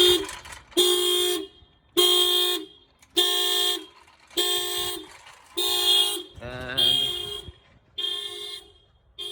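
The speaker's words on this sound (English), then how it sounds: "As you can see, the alarm went off." Viper car alarm sounding on a 2006 Toyota Prius, loud repeated blaring horn-like blasts, seven evenly spaced bursts with short gaps, one bursting into a warbling siren pattern, close by.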